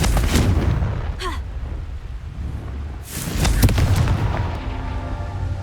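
Fiery blasting-spell explosions from the video game Hogwarts Legacy boom out in two bursts, the second louder and fuller, with rumbling tails over game background sound.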